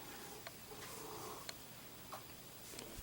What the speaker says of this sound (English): cat, you're making more noise.